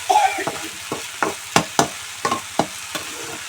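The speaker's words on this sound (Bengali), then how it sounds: "এখন এরকম নেড়ে চেড়ে আলতোভাবে নেড়ে চেড়ে কচুর ডেগাটা আলুটা মজিয়ে নেব" Taro stems and potatoes stirred gently in a pan, with a series of distinct scraping strokes at an uneven rhythm over a light frying sizzle, close and moderately loud, with no talking.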